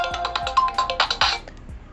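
A ringtone from a Realme Narzo 50A phone plays loudly and alone, a bright melodic pattern of rapid repeating tones with rhythmic pulses that ends abruptly and fades out.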